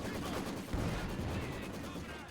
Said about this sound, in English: Grenadiers out in the open being shot at.